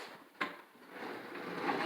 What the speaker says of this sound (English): And this drawer, he says, kind of flops open